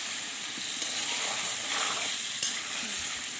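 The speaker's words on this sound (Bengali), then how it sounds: "আমি এখন কষাচ্ছি," Aloo dum potatoes with ginger, garlic, cumin and garam masala paste frying in a pan, giving a steady close sizzle and hiss with a brief stirring scrape, no talking.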